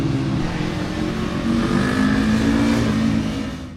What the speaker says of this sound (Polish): Teraz idzie grupa D, najwięcej drogowych motocykli.